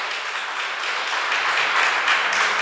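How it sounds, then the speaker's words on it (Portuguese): Sustained applause from a large church congregation, steady and dense throughout, with no voices standing out. "Uma salva de palmas para Jesus."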